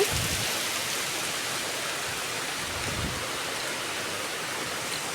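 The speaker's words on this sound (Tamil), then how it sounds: "இந்த மதியம் பார்த்திங்கன்னா மழை பெய்ய ஆரம்பிச்சிருச்சு" Steady afternoon rain pours down in a dense, even hiss, close and unbroken throughout, with a few low thuds of drops hitting nearby surfaces.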